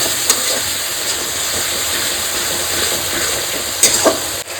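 Turmeric and red chilli paste being stirred and fried in a pan for a katla fish curry give a steady, close sizzling hiss, with a few light scraping clicks near the end.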